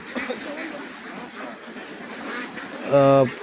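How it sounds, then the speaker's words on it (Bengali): Ducks on a farm of about 4,500 birds give scattered soft quacks under ongoing talk and outdoor noise, ending in one loud, clear quack near the close. "প্রচুর হাঁস এখনো আসিতেছেন"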